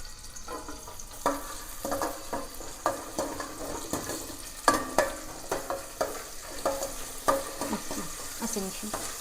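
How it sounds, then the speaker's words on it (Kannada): Onion, green chilli and bay leaf frying in oil, a steady close sizzle broken by repeated scraping stirs of a spoon against the pan, no voices. "ಎಣ್ಣೆ ಹಾಕ್ಕೊಂಡು ಹೆಚ್ಚಿಟ್ಕೊಂಡಿರೋ ಈರುಳ್ಳಿ, ಹಸಿಮೆಣ್ಸಿನ್ಕಾಯಿ, ಪಲಾವ್ ಎಲೆನ ಹಾಕ್ಕೊಂಡು ಚೆನ್ನಾಗಿ ಫ್ರೈ ಮಾಡ್ಕೋಬೇಕು"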